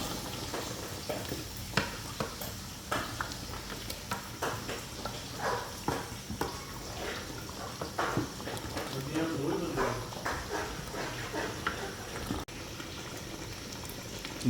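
Beef masala frying in a cup of oil in a pot, giving a steady, close bubbling sizzle with occasional stirring scrapes, running continuously under a person talking.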